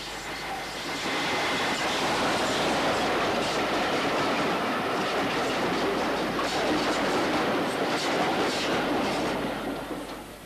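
Great Central Railway N2 steam locomotive 69523, an 0-6-2 tank engine fresh from overhaul, running on a five-mile heritage line, a continuous loud rumble with rhythmic wheel clatter sustained throughout.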